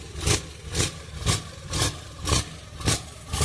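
Loud European turbo diesel engine pulsing in steady rhythmic surges about every half second, a heavy low rumble with broadband bursts, close and alone without voices.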